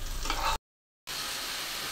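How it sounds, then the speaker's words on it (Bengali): Fish frying in a pan on one side of the stove, with red amaranth greens cooking beside it, makes a continuous, close, bright sizzle that briefly drops to silence, then carries on evenly. "এক পাশে মাছ ভাজা হচ্ছে"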